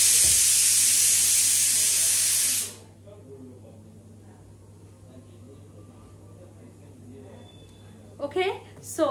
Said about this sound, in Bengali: মাকে এখনই রান্না করতে হচ্ছে, একটা সিটি আসছে